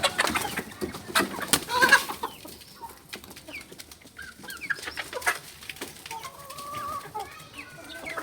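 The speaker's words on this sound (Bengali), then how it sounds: "এখন মুরগি ছেড়ে দিচ্ছি" Backyard chickens let out of their coop in a rural home, clucking and calling intermittently at moderate distance, with scattered bird chirps and soft rustling throughout.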